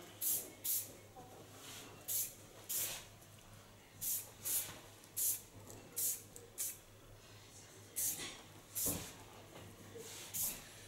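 Repeated short hissing bursts of Lanza blow-drying hair spray, about a dozen, in an irregular rhythm, close by over a quiet room.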